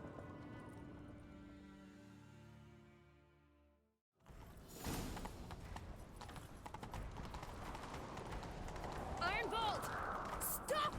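Horse hooves clip-clopping at a gallop in the Witcher 3 game, a fast, rhythmic drumming of hoofbeats that starts abruptly after a quiet musical passage and keeps up close and steady, with a brief whinny and voices talking over it.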